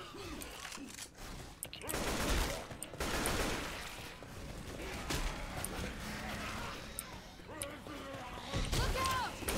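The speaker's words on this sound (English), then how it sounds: "I'm literally shooting into the darkness" Gunfire in a Left 4 Dead-style add-on map, a steady chatter of shots and bursts running under frantic talk from a player.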